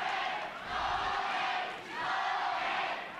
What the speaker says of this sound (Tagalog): Patuloy na nagchichir ang crowd para kay Kono